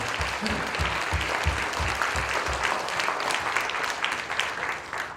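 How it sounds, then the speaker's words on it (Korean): An audience claps together in congratulation at a church book publication celebration for an elderly pastor, a dense, steady round of applause that carries on throughout. "우리 박수로 우리 함께 축하하겠습니다"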